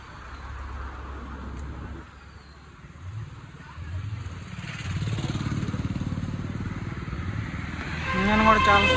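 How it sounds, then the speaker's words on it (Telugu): The diesel engine of a 2016 Tata Zest idles with a low, steady hum, and someone talks over it at moderate volume. Near the end the engine note grows louder. "ఇంజన్ కూడా చాలా స్మూత్ ఉందండి."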